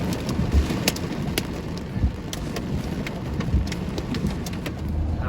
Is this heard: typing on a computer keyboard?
no